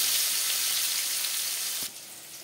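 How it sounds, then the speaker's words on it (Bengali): Turmeric-coated potato pieces fry in hot oil in a pan, a loud, steady sizzle that drops in level near the end. "ওইদিকে আমার আলু ভাজা হচ্ছে"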